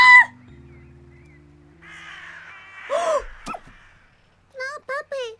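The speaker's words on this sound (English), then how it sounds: "Freaking blackbirds." Harsh caws from blackbirds in the video game Little Misfortune ring out in a quick series of three near the end, after a louder squawk earlier, over quiet game music with brief vocal sounds.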